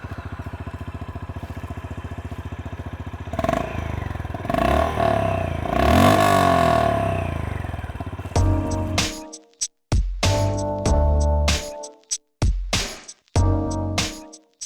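A Honda H'ness CB350 motorcycle engine idles with a steady thump, then rises through several revs before sharp throttle blips rise and drop back with abrupt cutoffs, close and loud, no talking.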